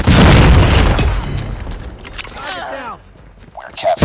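A frag grenade explodes in Call of Duty Mobile, a loud, close boom with a long, rumbling tail that fades over a couple of seconds, followed by game noises.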